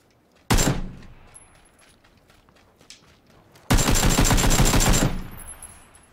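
Gunfire in PlayerUnknown's Battlegrounds: one sharp nearby shot, a few faint distant pops, then a loud sustained automatic burst of rapid shots lasting over a second, with no talking.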